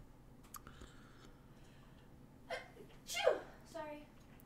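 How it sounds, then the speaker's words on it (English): A single sharp sneeze bursts out near the middle, followed by a shorter voiced exclamation, over a quiet room with faint clicks and low background hum. "You don't have to be sorry you sneezed."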